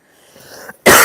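A single sharp, loud cough bursts out close up after a moment of faint rustling.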